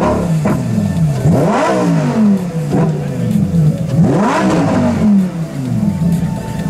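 A Lamborghini Huracán STO at a supercar show in Marbella is revved hard several times, with loud rising and falling sweeps and a crowd murmuring around it.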